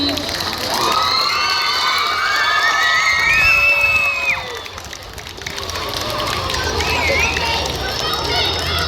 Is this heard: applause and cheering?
yes